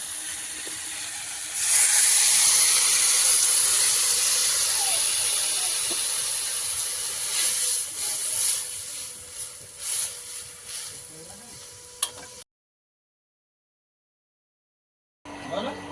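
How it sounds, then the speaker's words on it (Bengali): Fish curry gravy boiling in a pan, a loud steady hiss and bubbling that starts abruptly, slowly fades with scattered clinks of utensils, then cuts out briefly before returning faintly. "তরকারির ঝোলটা ফুটে উঠেছে"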